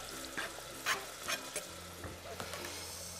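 Chopped garlic sizzling in a pot while making a spicy nacho sauce, a faint steady fry with a few soft stirring scrapes and clicks of a utensil.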